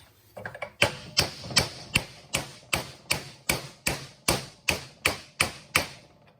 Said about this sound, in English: All you do now is knock over the U-joint till it touches that.